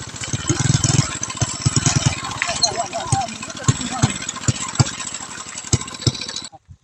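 A mid-pitched tractor engine chugs steadily with regular knocking pulses, close by, while a voice talks over it; the engine cuts out at the end.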